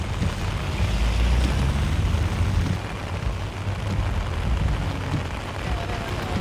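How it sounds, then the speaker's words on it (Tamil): Heavy rain pours onto a street in Nallur, Jaffna, a dense and constant roar of downpour with low rumbling traffic mixed in, loud and unbroken throughout. "சொல்லவே இல்லாத அளவுக்கு மழை பெய்து கொண்டிருக்கு"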